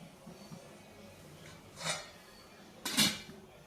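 Two metallic clanks of idli plates set into a steamer pot, one soft around the middle and a louder, sharper one near the end, over a quiet background.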